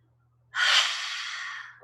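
A single long, audible inhale during a gentle yoga breathing exercise, drawn in sharply after a moment of quiet, then tapering steadily.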